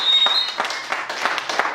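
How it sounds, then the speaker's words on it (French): A seated audience at an evening workshop event applauds in a dense, steady wash of clapping that holds loud throughout. Brief cheers and voices rise within it. "Applaudissons très fort, s'il vous plaît."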